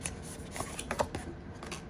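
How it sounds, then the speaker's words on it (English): Card pulled from an oracle card deck, soft papery slides and light flicks close by, faint and brief. "I'm going to pull one more card as a spirit animal message."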